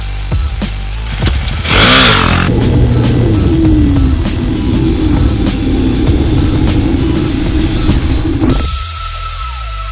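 A KTM Duke 250 motorcycle climbs a hill on a church driveway, its engine note rising and holding steady for several seconds before cutting off abruptly near the end, leaving quiet.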